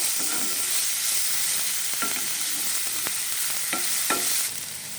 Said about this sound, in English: Once the oil has become hot, add in some ginger garlic paste and give this a stir.